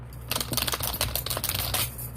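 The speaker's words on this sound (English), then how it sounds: "I'm typing." Rapid, irregular clatter of keys typed on a keyboard at a home workspace, close and moderately loud, a steady burst of clicks with no talking.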